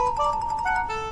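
A mobile phone ringtone plays alone for an incoming call, a short bright electronic melody of repeating tonal notes at moderate volume.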